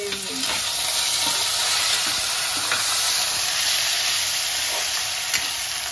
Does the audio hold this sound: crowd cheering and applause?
no